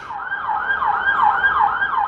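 An emergency vehicle siren wails in a steady rising and falling sweep on a London street, loud and fairly close, cycling about four times over faint traffic rumble.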